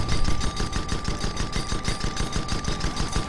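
Rapid, evenly spaced flak gun shots pound away in a video game, a steady loud stream of thumping bursts with a constant high whine running underneath.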